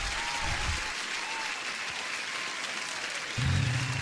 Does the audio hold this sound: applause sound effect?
yes